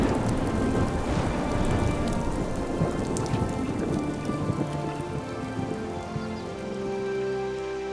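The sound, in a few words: summer thunderstorm with rain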